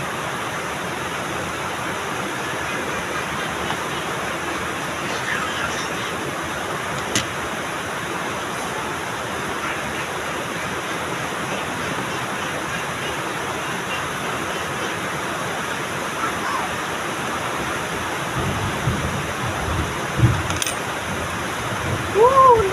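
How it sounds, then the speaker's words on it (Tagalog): Steady, dense hiss of heavy rain pouring continuously, loud and close, with a few faint thumps near the end. "ang sobrang ingay ng ulan"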